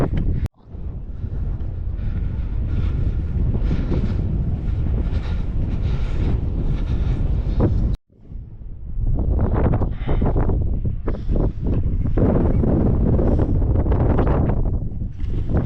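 Strong wind on a desert hilltop in Peru roars and buffets the microphone in heavy continuous gusts, briefly cutting out midway before blasting again.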